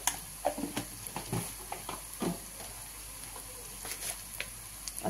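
Food frying in a pan for a Bengali eggplant dish, with chopped green chilli, turmeric and salt cooking in oil, gives a steady close sizzle broken by soft clicks and stirring scrapes.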